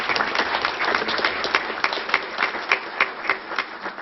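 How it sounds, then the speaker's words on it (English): A round of applause for award honorees, including an Instructor of the Year, at a tribal council meeting: steady, dense clapping from a seated group, close and fairly loud throughout. "And I'd like to give a big round of applause."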